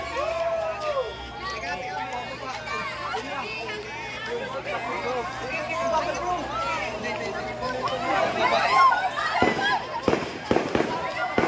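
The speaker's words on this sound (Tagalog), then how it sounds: "Grabe, may fireworks pa doon, no?" Crowd chatter and excited voices fill a debutante party, with scattered fireworks pops and bursts growing louder and sharper toward the end.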